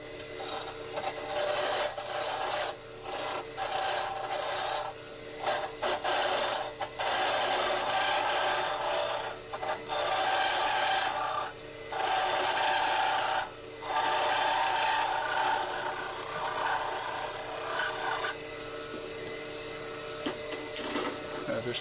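A tool takes the corners off Brazilian purpleheart wood stock with a continuous harsh, gritty rasping, broken by short pauses, close and fairly even in level.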